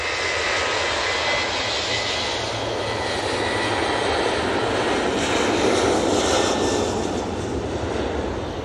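A Ryanair jet on its takeoff roll at Manchester Airport bound for Cork, its engines a steady, heavy roar heard from a distance with no talk.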